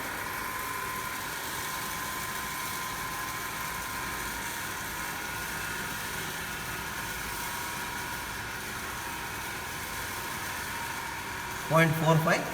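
A DC motor runs steadily through a lab speed-control test with its field current weakened, a continuous even hum lasting throughout, with a brief voice at the end.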